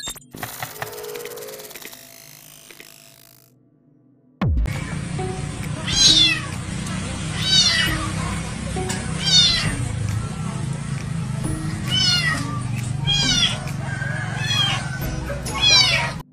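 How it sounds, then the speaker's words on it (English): A kitten trapped down a well in Singapore meows and screams repeatedly, loud shrill cries recurring every second or two after a brief quiet start, echoing over a rumbling background. "A small monkey has heard the screams of this kitten that is caught in a well in Singapore."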